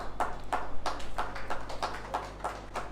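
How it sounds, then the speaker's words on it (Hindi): Applause at an award ceremony for a writers' association conference: a steady run of sharp, evenly spaced claps, close and clear, with no talking over them. "तालियों के साथ"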